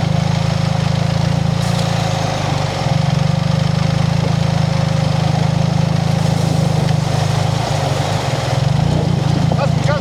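A motorcycle engine runs loudly and steadily nearby during a river crossing in Morocco, its throttle rising and dipping slightly, with voices talking over the drone.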